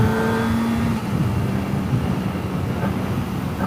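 Kawasaki Ninja ZX25R motorcycle engine running steadily at close range, a continuous loud drone with a low hum throughout, no clear separate blips or rev peaks standing out.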